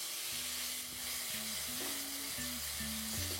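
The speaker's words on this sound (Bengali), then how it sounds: "তারপর এটাকে ভালো করে ভাজতে থাকুন।" Onions frying in a pan with salt for a Bengali doi aloo potato curry, a quiet, steady sizzle running throughout with low tonal background music beneath it.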